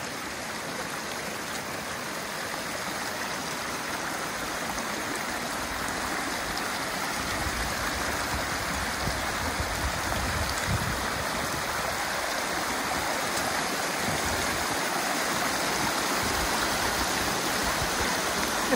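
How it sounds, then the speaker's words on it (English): A continuous rush of falling water from a small waterfall on a trail in Sloppy Floyd State Park, Georgia, steady and fairly close, fills the whole stretch with no voices. "It looks like we have our own little waterfall on the trail."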